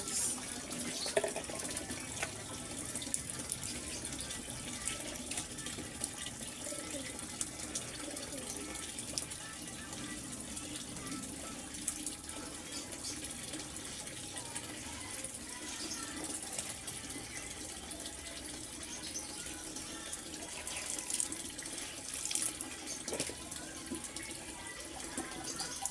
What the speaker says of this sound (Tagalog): Ay, tubig yun, ha? Patay mo yun.